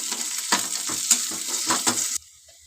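Cumin and mustard seeds fry in hot oil in a pan, a loud close sizzle with rhythmic scraping stir strokes and light metallic clinks, cutting off abruptly near the end, no voices.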